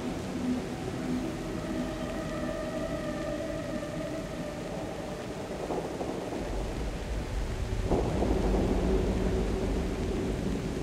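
Rain and thunder in the video game Cocoon, a steady soft wash of rainfall with low rumbles swelling near the end, fairly faint and continuous, with no voices.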